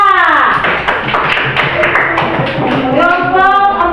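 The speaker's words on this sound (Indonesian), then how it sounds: "Tepuk tangan untuk kelompok 3." A classroom of students claps for a group, a dense burst of quick hand claps lasting a few seconds, close and loud, with a voice speaking over it.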